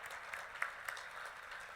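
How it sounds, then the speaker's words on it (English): Faint applause from a crowd at an evening gala, a soft, continuous patter of many hands clapping at a distance. "Big round of applause for our staff as well."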